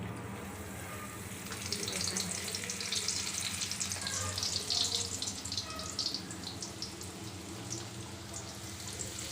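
Masala peanuts fry in hot oil, a soft steady sizzle and bubbling hiss that swells as the peanuts are added and keeps on at low volume throughout.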